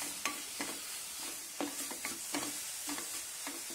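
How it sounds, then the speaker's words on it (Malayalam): A spatula scrapes and stirs beetroot rice with turmeric and red chili powder in a pan, giving repeated rhythmic scraping strokes over a soft, low sizzle, close and fairly quiet. "മഞ്ഞൾപ്പൊടി, കുറച്ച് റെഡ് ചില്ലി പൗഡർ ആഡ് ചെയ്ത് ഒന്നും കൂടി ഇളക്കുക."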